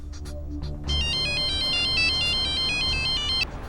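A phone ringtone plays an electronic melody that rises in brightly and carries on steadily, going unanswered, over a low rumble of background noise.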